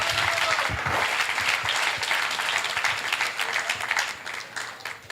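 A church congregation claps in praise during a worship service, dense steady applause from many hands filling the room throughout, with a few louder claps near the start.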